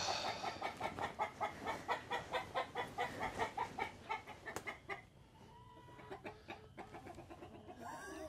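Agitated chickens cluck loudly in a rapid, rhythmic series of squawks, then settle into quieter, scattered clucking nearby.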